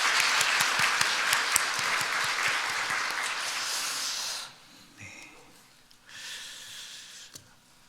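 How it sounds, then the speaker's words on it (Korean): A church congregation at a Sunday service applauds its choir with a full, steady burst of many hands that cuts off after about four seconds, leaving a quiet hall with faint shuffling and a low murmur. "박수로 격려하면 좋겠습니다."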